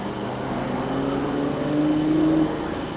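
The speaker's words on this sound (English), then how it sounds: "209, Thierry Delaverne in the Nissan, the quickest car other than the Citroëns or Mitsubishis." Nissan rally car on a 1996 Dakar Rally stage, its engine droning steadily with a rising, revving tone that peaks then drops, heard at moderate distance over broadband wind and road noise.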